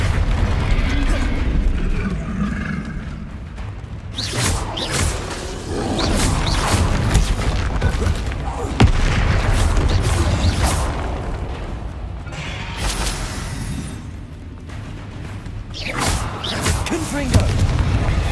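Repeated booming spell blasts from Bombarda and Confringo in Hogwarts Legacy, a series of loud explosive bursts with rumbling tails, spaced every few seconds under shouted spell names and game noise.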